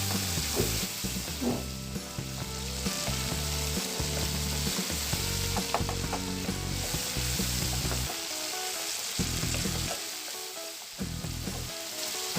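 A steady loud sizzle of tomato paste frying in oil tempering for tomato rice, with stirring scrapes and clicks, fading in and out near the end.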